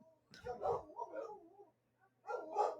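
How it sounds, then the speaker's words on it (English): Pet dogs barking indoors in two bursts of several sharp barks, with a short pause between them, fairly close and clear. "my dogs are barking"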